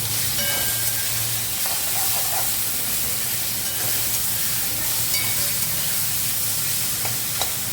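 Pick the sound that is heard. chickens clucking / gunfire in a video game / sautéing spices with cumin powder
sautéing spices with cumin powder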